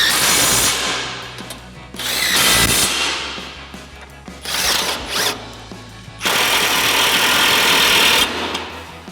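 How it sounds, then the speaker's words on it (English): An 18mm socket on a ratchet tightens nuts on the front lower control arm suspension of a 2015-2020 Ford F-150, making loud, close bursts of rapid ratchet clicking with short pauses between strokes. "you can come back in with your 18mm socket and tighten all these down."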